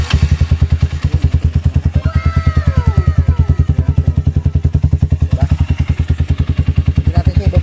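Motorcycle engine running with its silencer removed, a loud, close, rapid, even thumping idle throughout, with clattering mechanical noise and a faint sweeping squeal in the middle.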